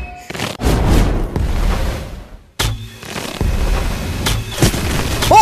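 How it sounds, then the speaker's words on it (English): Rapid heavy gunfire in the video game Gun Raiders, loud close bursts of fire broken by a brief pause, then resuming with continuous shots and explosive booms. "Oh shoot, he has a minigun!"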